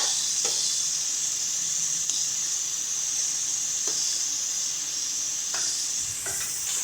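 Garlic, ginger and green chili paste sizzles in hot oil with a constant bright hiss, and a few soft stirring scrapes come through at intervals, close and without speech.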